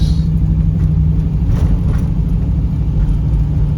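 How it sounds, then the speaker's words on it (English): A 1981 Trans Am's engine held at high revs against its rev limiter in first gear, a steady loud droning roar with a low rumble that never drops, heard alone from close by. "I'm hitting the rev limiter and it's not shifting into second gear"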